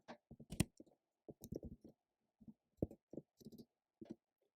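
Typing on a computer keyboard while entering a secret key during server setup, bursts of crisp close key clicks in quick irregular clusters separated by short pauses.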